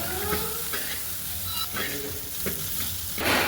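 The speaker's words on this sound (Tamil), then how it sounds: "அதில் கிழங்கு சேர்த்து நல்லா மிக்ஸ் பண்ணி விட்டுருங்க" Beef and potato stirred in a pan, a close sizzle with repeated scraping stirs at a loose rhythm, steady and moderately loud.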